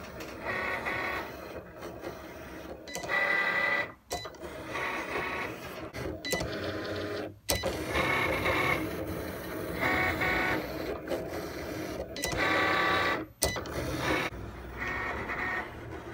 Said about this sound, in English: I'm going to use my Cricut machine to write on it